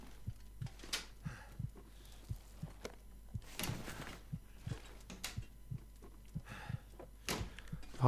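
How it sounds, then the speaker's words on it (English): A heartbeat in the survival game The Long Dark: steady, low, thudding beats repeating at an even pace over a quiet hum, faint and close. "Heartbeat's getting louder, isn't it?"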